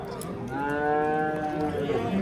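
Cows, a mother with her calf, moo at a busy cattle market in Qashqadaryo, one long, loud, drawn-out moo filling most of the moment, with faint crowd noise beneath.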